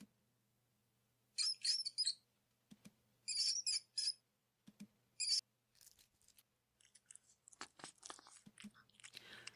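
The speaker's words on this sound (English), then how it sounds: "The mouse's pained squeaks and squeals pierce through you until they're abruptly cut off." A mouse in a video game squeaks in pain in three shrill, chirping bursts, followed by quieter scattered crunching and ticking noises.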